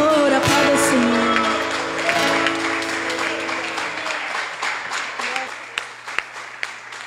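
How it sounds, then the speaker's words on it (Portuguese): Congregation at an evening church campaign service clapping for the Lord while sustained music and voices ring out, the applause thinning into scattered sharp claps as the music drops away. "Aplauda o Senhor, aplauda o Senhor."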